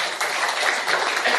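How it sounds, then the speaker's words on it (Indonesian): A church congregation claps loudly during a sermon, a dense, sustained burst of applause lasting just over a second. "Yang mengerti tepuk tangan bagi Allah."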